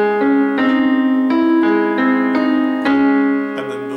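A piano plays the rolling arpeggiated chord pattern of a song from Over the Garden Wall, evenly flowing notes sustained into one another, close and unaccompanied.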